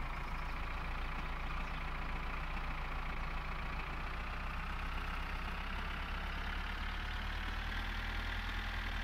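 A tractor engine idles in the driving game My Summer Car, giving a steady, loud diesel rumble that holds unbroken for the whole stretch with no speech over it.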